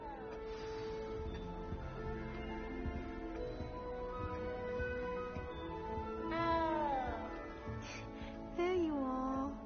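A cat meows in a video game, two or three rising and falling meows near the end over a steady backdrop of game music and ambience.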